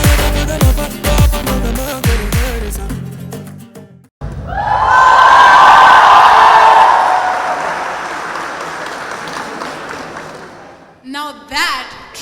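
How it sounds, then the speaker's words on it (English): Following a dance performance at a college cultural event, an audience cheers, whoops and applauds in a loud, sustained roar that swells and then fades away, with music heard just before it. "Can we have another huge round of applause for this electric performance?"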